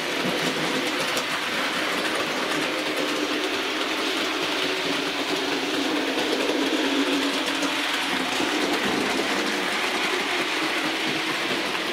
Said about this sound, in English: A lot of people write off these old Hornby locos, but they do run well, some of them.